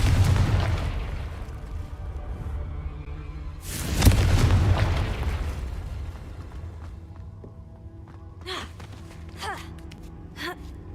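Confringo blasting spell going off in a video game: two deep booming explosions with long rumbling tails, followed by quieter magical whooshes and chimes.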